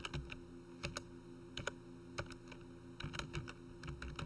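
Keys clack on a computer keyboard while text is entered into an Excel worksheet, with short irregular bursts of close, crisp taps separated by brief pauses.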